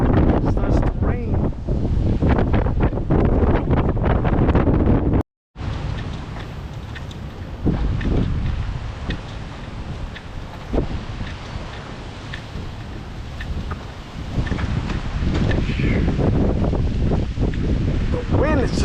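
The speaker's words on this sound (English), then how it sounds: "The wind is just blowing." Strong storm wind roars and gusts across the microphone near the water, loud and buffeting with a brief dropout, easing somewhat midway before surging again.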